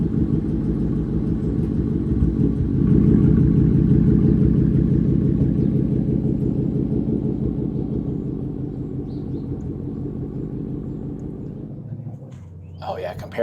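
An S197 Ford Mustang, fresh from spark plug and ignition coil replacement, rolls at low speed with a steady, loud mid-range engine rumble that swells briefly then settles, heard close from inside the car.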